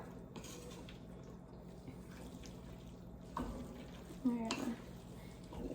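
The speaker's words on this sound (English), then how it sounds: "You're gonna stir it right on in." A spoon stirs one-pot spaghetti alla vodka in a pot, giving a soft, wet scraping and bubbling that is faint and close, with a couple of louder clunks near the end.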